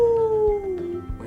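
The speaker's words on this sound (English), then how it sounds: "And the dogs of the town made a train whistle choir." A short, loud, drawn-out howl glides downward in pitch for about a second, like dogs howling together, with a softer yip at the end.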